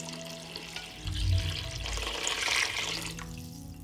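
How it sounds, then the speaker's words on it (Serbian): Water pours into a pot of goulash soup with a soft, steady rush that swells midway and bubbles against the hot ingredients before easing off toward the end. "Nalit ću vodu da prekrije sve sastojke."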